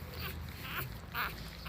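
A newborn puppy whimpers in short, thin squeaky cries, three or four in a row, close and faint over a low background hum.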